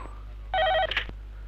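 A single short burst of a telephone ringing late at night, close and clear, over a quiet low hum.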